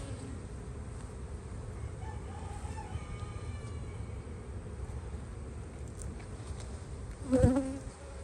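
Honeybees hum steadily around an open spring hive with frames full of larvae, a continuous low buzz filling the whole stretch, with a brief louder burst near the end as one passes close.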